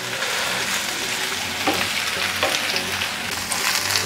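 Sausages and shallots stir-fried in a packed nonstick pan, a loud steady sizzle with occasional scraping stirs, close and uninterrupted by talk.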